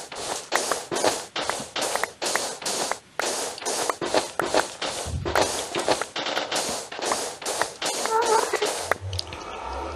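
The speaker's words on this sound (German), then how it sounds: "Ich hab die Katze gehört." Rapid, busy tapping and shuffling noise runs throughout, with a Minecraft cat's meows and caterwauling mixed in, loud and close.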